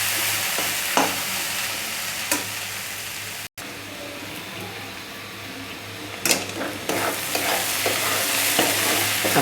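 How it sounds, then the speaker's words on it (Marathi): Onion frying in plenty of oil for an onion-tomato chicken chutney, a loud continuous sizzle with periodic spoon scrapes and stirring clatter, briefly cutting out once midway. "आपला कांदा चांगला भाजला आहे"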